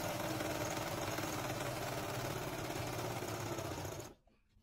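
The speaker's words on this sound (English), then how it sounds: "you want to sew on what I have here as the sew line" Sewing machine stitching a reusable cloth menstrual pad, a steady close mechanical whir with a rapid needle rhythm that runs for about four seconds and then stops abruptly.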